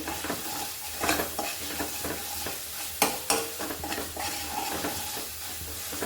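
Pav bhaji mixture with masala being stirred and fried in a pan, a continuous close sizzle broken by repeated scraping strokes and a couple of sharper spoon knocks against the metal.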